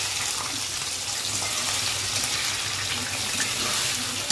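Prawns land in hot oil and fry with a steady, loud, dense sizzling hiss. It holds evenly from start to finish, close by, with no talk.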